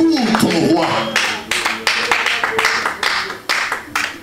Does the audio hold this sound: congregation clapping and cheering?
yes